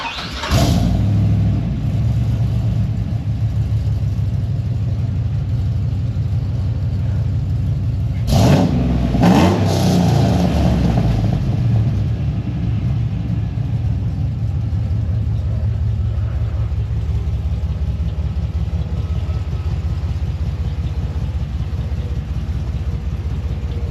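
A 2005 Chevy Silverado prerunner truck engine cranks and fires close by, then settles into a deep, steady idle, with a couple of sharp revs about a third of the way through before dropping back to a rumbling idle.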